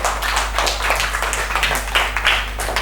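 Students in a classroom clap for a classmate, a short burst of brisk, fairly close hand claps over a constant low electrical hum.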